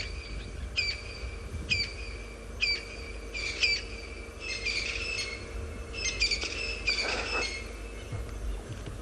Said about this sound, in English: the bird that we're hearing in the background are crested francolins